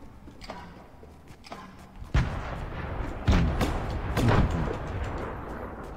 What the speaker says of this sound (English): Are you actually shooting at me, or are you shooting at something else?